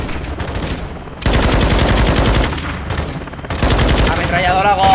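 Sustained machine gun fire in Call of Duty: Modern Warfare II campaign, two long rapid bursts split by a short lull, loud and close, with a voice briefly audible near the end.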